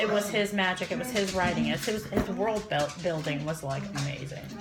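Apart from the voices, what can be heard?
No everyday noise stands out behind the speech.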